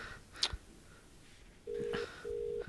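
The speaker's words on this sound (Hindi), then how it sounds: "रिंग जा रहा है ना?" Telephone dialing tones from a call placed in a Hindi-dubbed South Indian horror film, a short keypad beep followed by two steady ringback tones, each lasting under half a second, over a quiet background.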